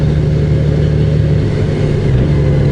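A 2024 Honda Goldwing Bagger with a six-cylinder engine and DCT gearbox rides at speed, its engine a loud, steady close drone with wind rush, no distinct gear change standing out.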